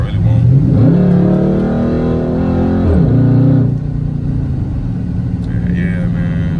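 A 2012 Dodge Charger SRT8 with a 392 V8 pulls hard on a highway. Its loud, close engine roar climbs in pitch, drops sharply at each shift or downshift, then settles into a steady drone.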